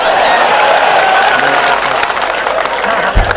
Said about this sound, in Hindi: ताली बजा रहे।